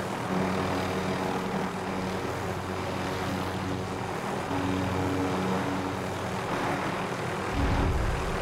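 Helicopter in the Call of Duty: Modern Warfare video game, a steady rotor and engine drone with a constant hum, fairly even in level, plus a louder low rumble toward the end.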